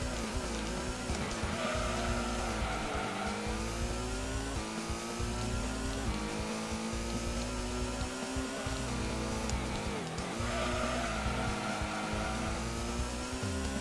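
A race car in the Gran Turismo video game revs through a lap, its engine whine rising and falling in pitch with the gear changes, continuous and steady throughout, with no talk.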